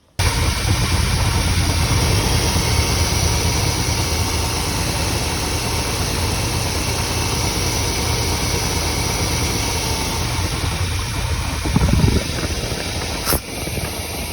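A Chevy OBS truck engine with a freshly rebuilt throttle body injection idles steadily and close by, with an even rumble throughout and a brief rise near the end.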